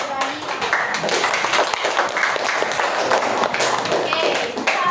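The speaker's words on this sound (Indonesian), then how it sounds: "sekarang tepuk tangan untuk kalian semua yang sudah berani." A classroom group of students claps together, irregular and lively, with overlapping taps and voices mixed under the clapping.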